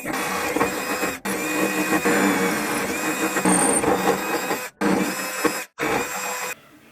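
A power drill bores two holes for electrical cables in a workshop, whirring steadily for several seconds with brief pauses between bursts before stopping.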